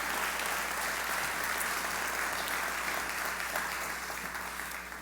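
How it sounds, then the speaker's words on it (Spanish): A church congregation claps steadily for visitors at a Good Friday service, a sustained wash of applause at moderate distance with a low hum beneath, fading slightly at the end. "este aplauso es para ti"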